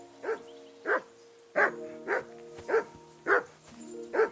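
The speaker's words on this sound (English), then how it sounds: "Jesus, Henry, that barking's driving me nuts. Can you get your dog to shut its beak?" A dog in Kingdom Come: Deliverance II barks repeatedly and loudly, about eight sharp barks in an uneven rhythm over a soft game backdrop with a faint steady hum, no talking.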